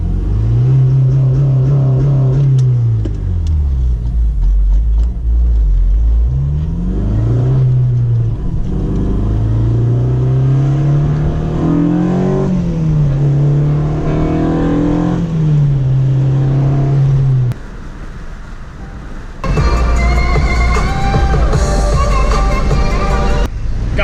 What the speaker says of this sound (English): One racer who revs his car at the car wash.